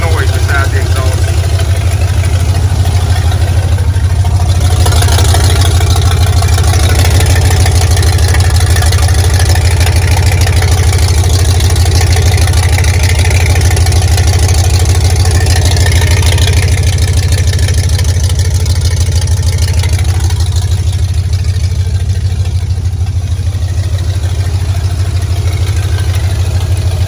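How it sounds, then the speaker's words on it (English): Car engine idling steadily after a cold start, a loud continuous low rumble with exhaust drone and no change in pace throughout. "The engine is purring. It's just sitting there."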